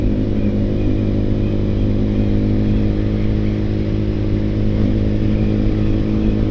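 Yamaha R15 V3 motorcycle fitted with a Ronin Hanzo NextGen aftermarket exhaust, riding through a village in street mode; a steady, loud, low engine drone holds evenly throughout with no talk.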